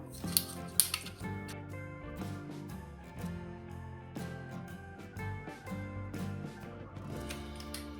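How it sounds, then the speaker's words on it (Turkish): Round-tipped scissors snip through a plastic bottle in a run of sharp, clicking cuts and rustles, with steady background music playing underneath. "yuvarlak uçlu makasımızla üçgen şeklini vereceğim."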